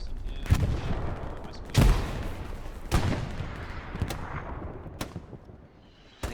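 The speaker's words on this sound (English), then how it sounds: "It's just a fire exchange here." A gunfire exchange in the World War II shooter Hell Let Loose: a run of heavy shots and booming reports several seconds apart, some near and loud, others more distant, over a rumbling battlefield background.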